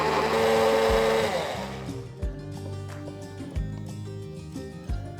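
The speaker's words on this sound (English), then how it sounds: "Cover it up and give it a blend for about 15 to 30 seconds." Small blender whirring with dish soap and water inside, a loud churning whine at first that settles into a steadier motor hum with a few soft knocks.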